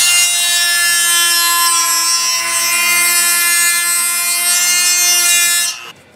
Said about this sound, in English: So I'll get my little Dremel tool with the cutter.